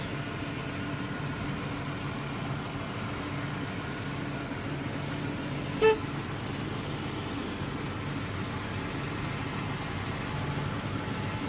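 A car with a 3.6 engine, not the Hemi, idles steadily at a dealer auction, a quiet, even mid-to-low drone under broadband noise, with one brief click midway and no talking.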